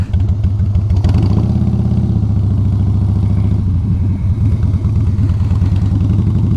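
A motorcycle engine rumbles steadily and loudly up close while riding through downtown Franklin, a continuous low mechanical drone with slight clatter and some shifts in pitch partway through.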